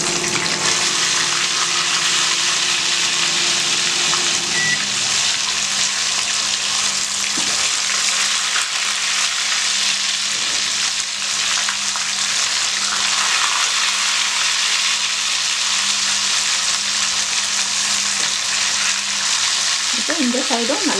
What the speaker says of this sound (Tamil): இந்த சைடும் நல்லா வந்து ஃப்ரை ஆன பின்னாடி நம்ம எடுத்துடலாம்.